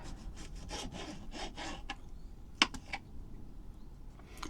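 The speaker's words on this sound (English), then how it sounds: "I'll just slice a bit more of the big tomato." A knife slicing through a large tomato on a cutting board, a series of soft rhythmic strokes followed by a few sharper taps, close and quiet.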